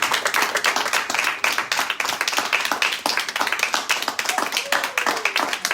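A church congregation claps and applauds during a Sunday service, steady rhythmic hand claps from many people filling the room, with voices faintly mixed in.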